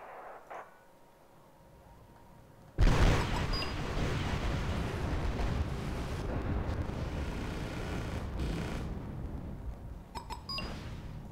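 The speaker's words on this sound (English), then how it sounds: "IHawks are gonna fire." IHawk surface-to-air missiles launch in the war game Wargame: Red Dragon, a sudden loud blast followed by a long sustained roar of rocket exhaust that slowly fades, with faint beeps near the end.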